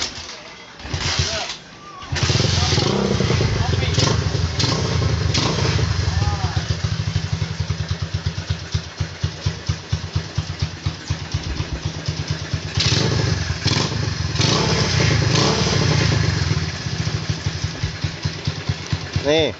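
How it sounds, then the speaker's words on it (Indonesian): A customized 2003 Honda Mega Pro motorcycle idles close to the microphone with a steady, rhythmic putter after a brief start-up, loud and even throughout with small throttle variations, while someone talks over it. "untuk mesinnya juga masih enak didengar dan masih langsam"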